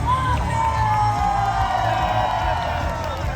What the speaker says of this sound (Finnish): Annetaan vielä isot aplodit!